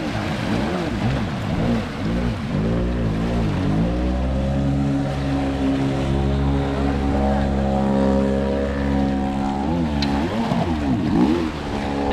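A Superjet stand-up jet ski with a single-cylinder engine runs steadily. A loud, even engine drone carries pitch sweeps as the throttle rises and falls, with brief blips near the end.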